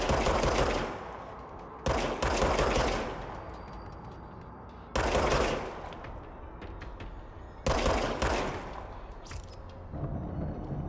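Four sharp, loud bursts of rapid gunfire from a self-regenerating-ammo gun in the game Control, each cutting in abruptly and trailing off into echoing decay before the next, with short quiet gaps between.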